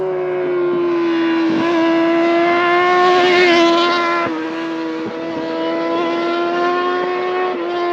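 A high-revving Triumph TT600 sports motorcycle engine drones steadily up close while riding, its pitch rising and falling with gear changes and brief throttle dips.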